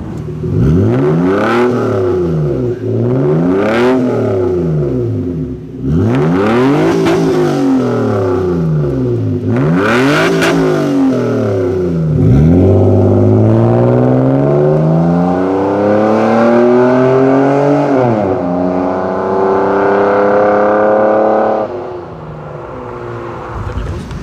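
A Nissan Skyline R34 sports car engine revs hard several times in loud bursts, then pulls away with a long rising, accelerating roar that fades slightly at the end.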